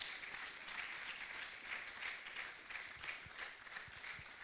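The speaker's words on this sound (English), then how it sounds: "Once again, please clap your hands for rising leader." An audience at an architecture student congress claps for a speaker. The applause is faint and distant, a steady patter with a few thumps near the end.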